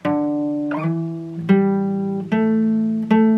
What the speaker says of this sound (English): But if you want to learn to slide, sounds a little more interesting, sounds like this